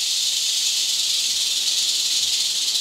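Eastern Diamondback rattlesnakes rattling in an indoor snake room, a loud, steady, unbroken high buzz that holds without pause from start to finish.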